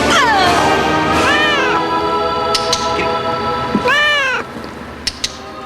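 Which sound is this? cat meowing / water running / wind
cat meowing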